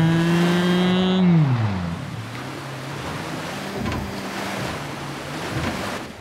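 A Mahindra Thar off-road car churns through water, its engine note dropping as it slows, then a steady rushing wash of water and engine rumble continues, loud and close, with no voices.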